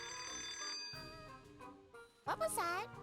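A phone ringing in Twisted Wonderland, a steady electronic tone over the opening second, then a voice speaks and a brief warbling chime follows.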